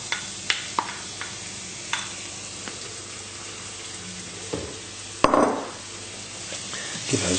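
Chopped onions hit hot oil in a pan and set off a rising sizzle, starting near the 5-second mark after a run of scattered knocks and clinks, close and fairly loud.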